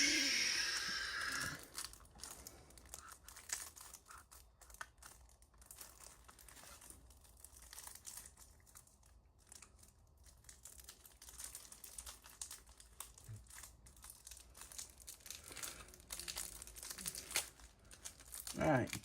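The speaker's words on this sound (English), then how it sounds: "I gotta get something to open up the plastic." Plastic wrapping on a One Piece trading card deck crinkles and tears in quiet, irregular bursts, close to the microphone, with a voice talking faintly at moments.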